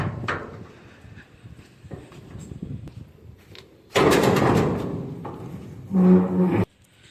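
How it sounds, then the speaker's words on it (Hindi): A truck container door swings shut with a heavy metallic slam, then a loud clank as it is locked, amid outdoor rustling and no talk. "गाइस देख सकते हैं एक दरवाज़ा बंद हो गया,"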